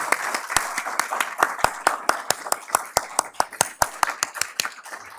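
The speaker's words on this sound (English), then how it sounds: "give a rousing round of applause to Carolyn and Helen and all the folks who have invested" At an insurance conference, a sparse group claps for the organisers, with distinct sharp claps in an uneven rhythm over a soft bed of lighter clapping that tapers off at the end.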